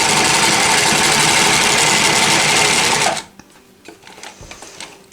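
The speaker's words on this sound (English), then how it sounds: "I'll let you see it stitch a little bit. Right now I have it on, I call it the, like a serger stitch." Janome L 393 sewing machine running a serger-like overlock stitch, a loud steady mechanical whir for about three seconds before it stops abruptly, leaving faint handling noises.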